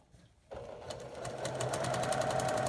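A sewing machine stitches a quarter inch seam over pins. After a brief quiet moment it starts up and runs as a steady, close mechanical whir with a rapid, even needle rhythm that builds slightly in speed.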